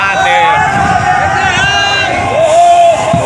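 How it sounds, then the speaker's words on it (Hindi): A crowd gathered at night to watch a new intercity express train departing from Prayagpur, loud continuous hubbub with shouts and whoops, and a long horn-like tone rising and falling through the babble. "यहाँ पे आप लोगों ने देखा ट्रेन को इतनी रात में देखने के लिए लोगों का भीड़ और उत्साह"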